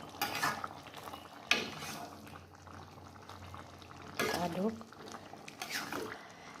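Salted balado chili sauce being stirred in a pan, with scattered spoon scrapes and clinks over a faint sizzle and a person talking intermittently.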